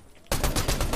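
Rapid gunfire bursts out in the Fortnite video game after a quiet moment, a loud, close rattle of repeated shots that keeps going to the end.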